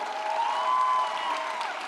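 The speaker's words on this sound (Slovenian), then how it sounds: "En aplavz za tale naziv" Audience at a cosplay competition applauding a contestant's title, a moderately loud wash of many hands clapping with faint crowd murmur beneath, steady throughout.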